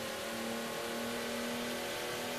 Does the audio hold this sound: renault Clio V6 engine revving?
yes